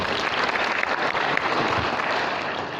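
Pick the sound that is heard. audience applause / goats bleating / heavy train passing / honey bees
audience applause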